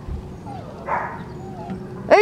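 Litter of eleven month-old kennel puppies giving thin, high yips and soft whimpers in quick, scattered bursts, close by, with a person speaking nearby.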